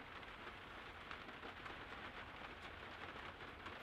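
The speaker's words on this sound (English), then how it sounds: "It is raining, which you can probably hear" Steady rain falls on a building site in Birmingham, a dense, even hiss of drops on surfaces continuing without pause, fairly close and quiet, with no voices.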